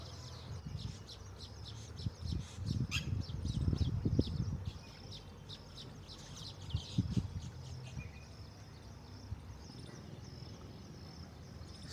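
Birds call and chirp outdoors in short, fairly faint bursts over a soft background, with occasional low rustling and handling thumps in between.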